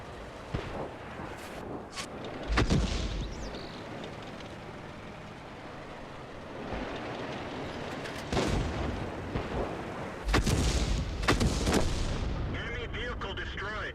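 Tank cannon shots in a World of Tanks battle: a few heavy, booming blasts spaced seconds apart over a constant rumbling engine bed, with some talk around them.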